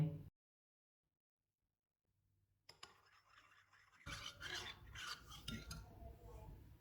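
A spoon scrapes and swirls as 2.5 tablespoons of cornflour are stirred into half a cup of milk in a bowl. Near silence gives way to faint, then busier close rubbing and clinking.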